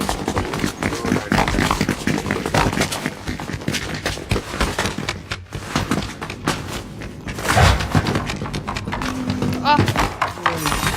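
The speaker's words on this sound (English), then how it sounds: "Yeah, horsey." Video game horse clip-clopping in a steady hoof rhythm with an occasional neigh, mixed under busy overlapping voices of players talking during a hide-and-seek style match.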